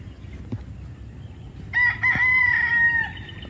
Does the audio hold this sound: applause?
no